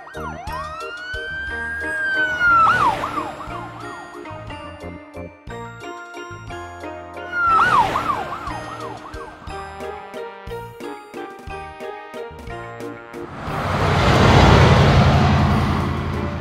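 Police car siren wailing in rising and falling sweeps, sounding twice in loud bursts over a bright chiming children's tune, then a louder, noisier passage near the end.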